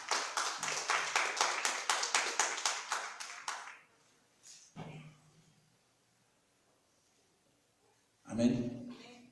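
Congregation at a Spanish-language church service claps in a brisk, loud burst for about four seconds, then fades into quiet with a brief murmur and a short swell of voices near the end.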